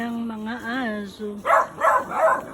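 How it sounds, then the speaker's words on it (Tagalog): Dogs barking in a few quick, loud yaps near a riverside outing, following a brief stretch of voice. "Mga aso."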